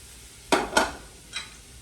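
Baby bella mushrooms sauté in a pan as a utensil makes two quick, close scrapes, followed moments later by a softer third stir over a light sizzle.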